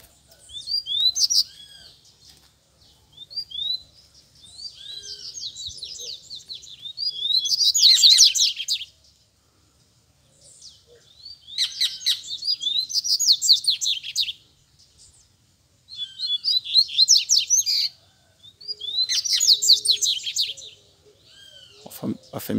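Coleiro (double-collared seedeater) birds singing and calling to fight, bursts of rapid high-pitched chirping phrases repeated in separate bouts with short quiet gaps, close and clear.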